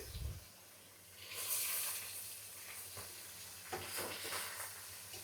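Koi fish lightly frying in hot oil give off a faint, steady sizzle and hiss, with a few soft stirring clinks rising briefly above it.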